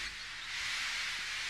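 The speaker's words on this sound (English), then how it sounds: "Henry still stayed in the tunnel and blew steam at him" A steam locomotive stands in a tunnel releasing a steady, loud hiss of steam that swells slightly and holds broad and continuous, with no voices.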